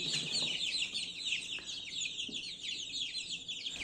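Young chicks and chickens cluck and chirp steadily at close range, a busy overlapping chatter of several birds with no talking.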